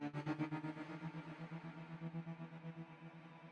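A low, sustained synth bass from the Arca Gravity Trap sound pulses in a wavering rhythm, washed in a long Borealis reverb tail that blurs the notes together, quiet and alone.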